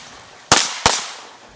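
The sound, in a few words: Glock pistol gunshots at shooting range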